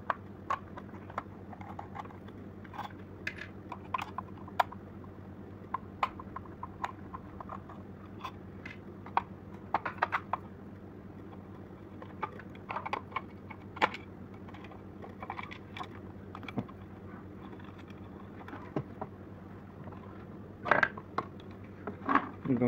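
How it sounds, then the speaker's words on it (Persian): A screw is undone while a blower is repaired, giving small irregular clicks and metallic ticks at close range over a low steady hum, with no talking. "حالا این پیچ رو باز میکنیم."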